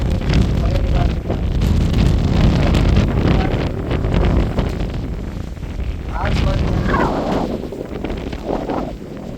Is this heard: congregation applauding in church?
no